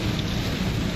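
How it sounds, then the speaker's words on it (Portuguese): Heavy rain pours steadily on a highway, the PRI-170 near Porecatu in Paraná, a dense continuous hiss with a low rumbling undertone, loud and close throughout the brief moment. "E aqui nós temos aí chuva, chuva, chuva, muita chuva"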